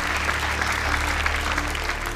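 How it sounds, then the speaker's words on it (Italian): A comedy audience applauds at a stand-up quiz show, a dense, steady wash of clapping that stays loud and unbroken for the whole stretch. "Chi ha fatto l'applauso per pietà?"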